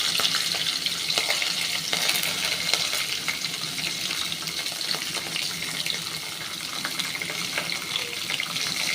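Soaked chickpeas and peanuts fry in oil in a wok over a low flame, making a dense, steady hiss with light stirring clicks throughout, close and without talk.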